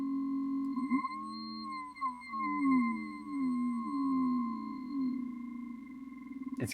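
Synthesized noise with its pitch being swept, a resonant tonal drone whose pitch glides up and down in wavering bends, fairly quiet and alone.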